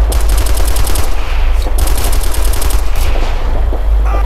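Sustained rapid machine-gun fire in the military shooter Operation Flashpoint: Red River, loud and close, with dense repeated bursts broken by a short pause and layered with distant shots.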